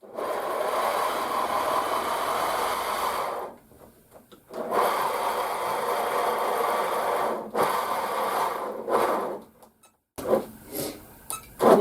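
A domestic sewing machine stitches a quilt border about an eighth of an inch in, humming in long steady runs. Brief pauses and some clicks and handling noises break up the runs.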